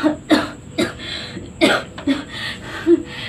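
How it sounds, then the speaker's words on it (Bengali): Several harsh coughs come in quick bursts, close and fairly loud, with short breaths between them and no talking. "তোমার কাশিটা যে বেড়েছে"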